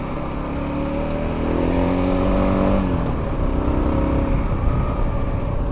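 Kawasaki KLR 650 motorcycle riding along a gravel road to a fire lookout in British Columbia, its engine droning steadily close by with rising and falling revs over constant road and wind rumble.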